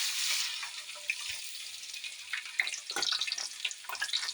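Chopped ginger dropped into hot sesame oil in a kadai, giving a steady bright hiss and sizzle with a few crackling spits, close and moderately loud, and no talk.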